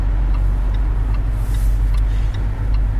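A car driven on the road gives a steady low engine hum and tyre rumble from inside the cabin, continuous and fairly loud with no talk.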